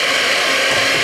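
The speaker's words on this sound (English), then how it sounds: "grab my mixer again and start to just blend that in" An electric hand mixer whirs steadily as icing sugar is blended into meringue for a pineapple baked Alaska, a loud, close, continuous buzzing drone with no talking.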